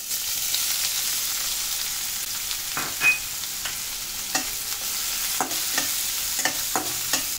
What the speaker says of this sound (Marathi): तेल तापलेलं आहे आपलं. थोडीशी अर्धा चमचा मोहरी, 1 चमचा जिरे